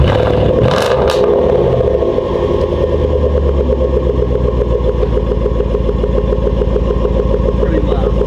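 A straight-piped Range Rover Sport SVR engine roars very loud and close, with a quick rev spike near the start that settles into a heavy, rumbling idle.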